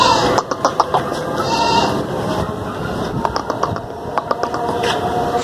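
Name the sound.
goat bleating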